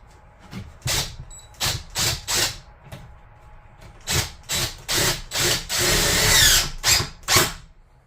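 A power drill driving screws into wood while building a loft in a tiny house on a Harbor Freight Haul Master 5x10 trailer, heard as repeated short loud whirring bursts and one longer run, close by with no talk.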